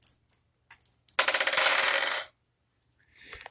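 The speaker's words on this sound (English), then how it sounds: "I'm going to take them all and then I'm going to roll them." Board game dice from a dice pool are shaken and rolled, giving about a second of dense clattering bursts with a few faint clicks before and a light rustle after, nearby and with no talk.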